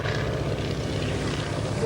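A propeller airplane in US Army Air Corps colours roars steadily overhead at a 1993 air show at Cambrai air base 103, loud and continuous, with a French-speaking commentator talking over it.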